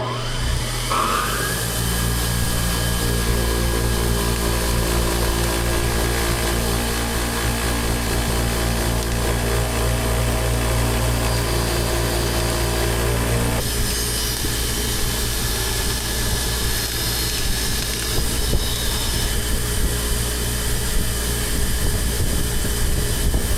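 A spinning wire wheel strips coating off nuts threaded onto a long bolt in a shop. It makes a loud, continuous whining grind with a rough scratchy texture that shifts partway through, with no talking.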